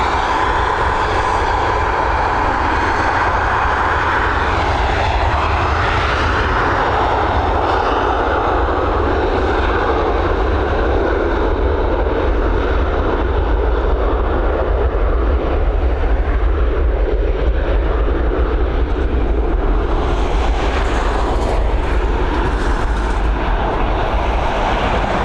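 Emirates aircraft engines roar at Dublin Airport, a loud, sustained near whine and rumble that holds steady, swelling slightly toward the end, with no talk.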